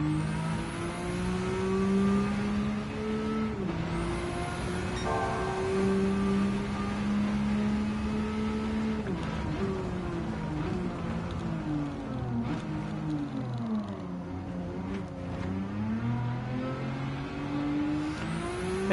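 An all-wheel drive race car in Gran Turismo 7 drives continuously, its engine note rising and falling through revs with gear changes across a steady, moderately loud run.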